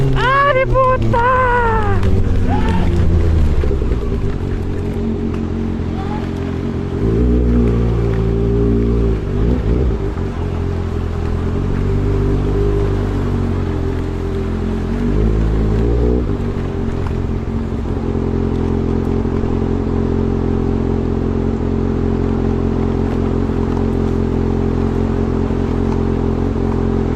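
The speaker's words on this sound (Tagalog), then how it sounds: "Boss, hinay ka lang magpagagan sa motor mo." A motorcycle engine revs loudly up close in repeated surging bursts, settling back to a rough idle between throttle blips, with people talking over it.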